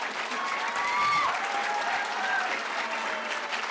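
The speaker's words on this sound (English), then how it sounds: "Please put your hands together once again for Ayan." An audience claps steadily, a dense, even wash of applause from a full room that carries on without pause, with a few voices faintly mixed in.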